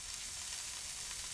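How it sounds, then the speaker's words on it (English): Beef cheeks sear in a very hot, heavy-based pan, giving a loud, steady, close sizzle that continues without pause and with no talking. "So we're just about to put the cheeks in the pan now."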